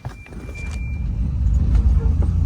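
A car drives through a run-down residential neighborhood, a steady low engine and road rumble heard from inside the vehicle that grows slightly over a few seconds.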